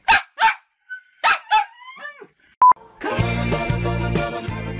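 Dogs bark in a string of sharp, separate yips and woofs, loud and near, then fall quiet before a musical jingle starts up. No one speaks.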